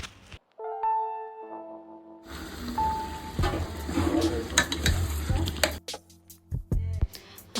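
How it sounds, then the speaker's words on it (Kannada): Chicken biryani marinade being stirred and mixed in a large pot: a steady wet scraping and sloshing churn lasting several seconds, close up, under a musical background with someone speaking. "ಎಲ್ಲವನ್ನು ಚೆನ್ನಾಗಿ ಮಿಕ್ಸ್ ಮಾಡಿ"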